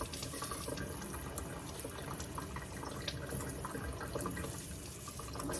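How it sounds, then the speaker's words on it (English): Running water pours steadily from a tap, rinsing through fresh potting soil in a plant pot during a repot, a continuous close splashing wash with faint drips and no talk. "I think I'll just give it one more little rinse"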